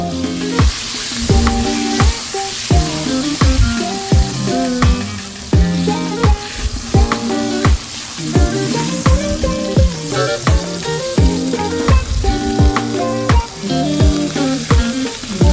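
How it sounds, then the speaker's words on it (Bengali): Chopped onions fry for prawn bhuna and are stirred nonstop in a pan, giving a loud continuous sizzle under a quick, regular run of clacking spatula strokes. No voices are heard. "পেঁয়াজটা ব্রাউন কালার হওয়া না পর্যন্ত এখানে আমরা পেঁয়াজটা ভাজবো এবং পেঁয়াজটা অনবরত নাড়তে থাকবেন"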